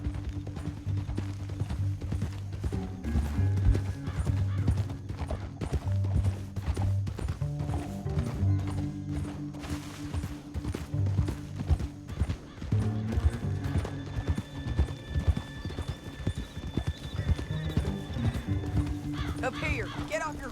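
Rhythmic hoofbeats clop steadily as horses gallop in Red Dead Redemption 2, with a horse whinnying and the game soundtrack running underneath.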